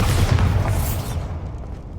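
A Bombarda spell explosion in Hogwarts Legacy lands as one loud, deep blast, then rumbles and fades over about two seconds.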